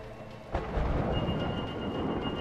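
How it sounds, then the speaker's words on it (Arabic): A thunderstorm in a video game brings a deep, sustained rumble of thunder that swells suddenly about half a second in and keeps rolling loud over a steady wash of rain. "اوه مع صوت العاصفه. مع الرعد."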